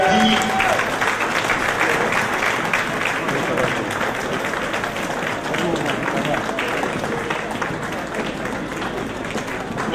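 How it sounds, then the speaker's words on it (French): Sustained applause from an audience greeting an arriving delegation at a Philadelphia fundraising gala, dense and steady throughout the clip with crowd noise mixed in. "Il faut les applaudir jusqu'à ce que ça s'aille"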